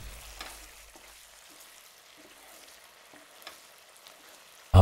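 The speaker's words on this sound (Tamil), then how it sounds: "போட்டுட்டு நல்லா கிளறி விடுங்க." Chicken curry in a pan, Tamil home-style grandma recipe, sizzling faintly while being stirred, with soft scraping strokes and occasional light clinks, close and low in level, no talk.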